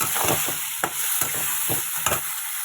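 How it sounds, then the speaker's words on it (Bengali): Cumin, ginger, garlic and green and red chilli spice paste sautéed with potatoes in a pan, with a steady loud sizzle and repeated scraping stirs of the spatula at an irregular rhythm, up close and without talk. "এই মশলাটা পুরো এতে ঢেলে দিলাম, ভালো মতো কষাবো।"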